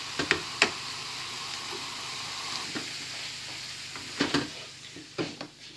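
Softened onions cook in a pan for a light sausage plait, giving a steady low sizzle with a few sharp scrapes and clicks of stirring scattered through it. No one speaks.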